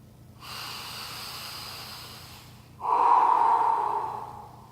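Deep, slow exhales during breath training, two long audible breaths close to the mic, the second stronger and more forceful with a hollow, rushing tone, separated by a brief pause.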